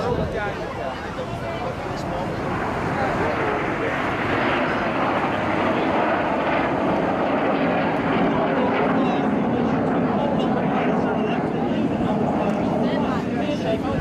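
Jet aircraft fly a display at the Blackpool Airshow 2017, a steady, loud, broad roar that holds for the whole stretch, with voices faintly underneath.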